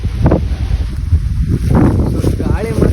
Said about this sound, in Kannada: ಹೆವಿ ಅಂದರೆ ಹೆವಿ ಗಾಳಿ ಐತೆ ನೋಡ್ರಿ